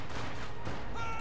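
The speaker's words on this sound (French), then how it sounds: "Une mitrailleuse nous tire dessus." Short burst of machine gun fire in Company of Heroes 2, a World War II strategy game set during Operation Barbarossa near Moscow, heard as a dense, fairly quiet battlefield clatter.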